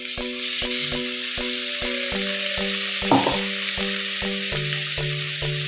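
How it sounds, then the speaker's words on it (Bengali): Onion and ginger-garlic paste fry in a hot pan with a constant crackling sizzle and a brief stirring scrape midway, while a melodic tune plays steadily underneath. "এবারে এর মধ্যে আমি পেঁয়াজ আর আদা রসুন পেস্টটা দিয়ে দেবো।"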